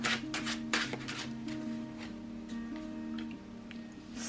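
Tarot cards riffle and slap close by in quick shuffling bursts at the start, then softer intermittent card sounds trail off over a low steady hum.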